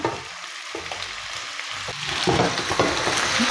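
A jaggery ladoo mixture hitting hot ghee with dry fruits sizzles and crackles close up, with stirring knocks early on and the frying growing louder and denser toward the end, no talk.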